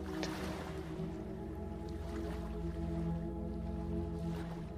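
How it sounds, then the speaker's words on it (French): Gentle waves lap and slosh against the hull of a sailboat rocking at night, a steady soft wash of water with a low continuous rumble underneath, close and unbroken. "Le son de la nuit avec ce doux bercement des vagues"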